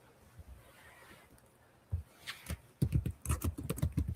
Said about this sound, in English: I hear her typing.